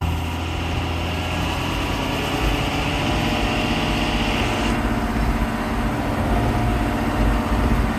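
A John Deere tractor engine runs steadily near a grain bagger and truck during wheat work, a loud, even, continuous drone that never lets up, with no voices over it.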